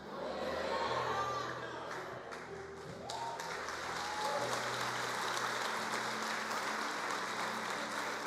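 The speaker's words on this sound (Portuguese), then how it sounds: "Não continue parado, não pare de aplaudir." A church congregation claps during a worship service, a broad, continuous wash of applause mixed with sustained music and crowd noise, moderately distant and steady.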